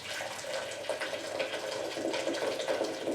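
Steady rushing and splashing of boiling water pouring into a mixing bowl, continuous and close, with no voices.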